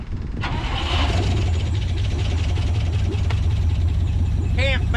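An old 1959 International B100 truck engine cranks, catches and settles into a steady, rough idle, loud and close, with a few sharp clanks and brief voices.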